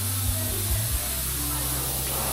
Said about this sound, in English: We're going to be shooting some base on it.